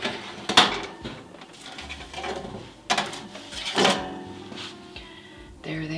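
A tray of coconut macaroons comes out of a home oven with sharp metallic clanks and a rattle of the door and rack, close and moderately loud, spaced over a few seconds.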